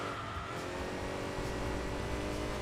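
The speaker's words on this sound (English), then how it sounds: "Beautiful engine sound" A microcar's engine in the Enthusia Professional Racing video game, holding a steady, dense buzzing drone at constant volume throughout, with no talking over it.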